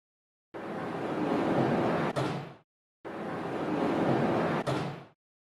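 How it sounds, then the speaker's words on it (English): A Haas CNC lathe door slides shut twice, each pass a loud, close rumbling glide of about two seconds ending in a sharp latch click, with no talking. "Close the door of the CNC lathe by clicking the handle."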